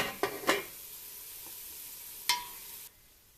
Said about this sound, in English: Best to lid your vegetables if you want them to sweat well.